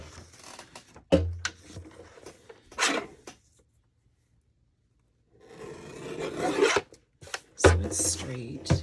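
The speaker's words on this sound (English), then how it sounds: "I'm going to trim off this edge." Scissors or a blade trim the edge of a junk journal paper page in short, close rasping cuts, with a silent gap in the middle before more cutting resumes.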